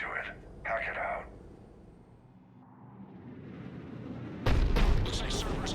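A Cerberus cannon fires in the video game Mass Effect 3 on Tuchanka: two heavy booming blasts early on, then a louder rumbling burst later, with low battlefield rumble between them and a voice nearby.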